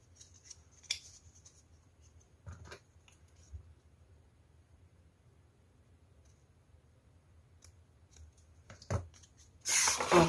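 Paper cutouts for a Christmas village model are snipped by hand with scissors: sparse, faint close clicks and snips in a quiet room, ending in a burst of loud rustling.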